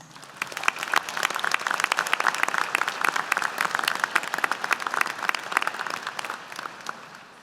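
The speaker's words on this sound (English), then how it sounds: "Let's give your family and friends a great big round of applause" Commencement audience applauding graduates' family and friends, a large crowd clapping steadily with sharp individual claps standing out, sustained throughout and slowly tapering toward the end.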